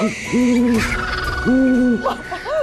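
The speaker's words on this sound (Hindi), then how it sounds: "वो देखो सफेद उल्लू।" A white owl hoots in a steady repeating pattern, several clear, loud calls spaced about a second apart, with faint background sounds between them.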